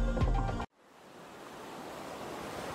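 Open ocean waves wash in a steady broadband hiss that swells gradually after a brief burst of music cuts off abruptly, soft and continuous with no voices.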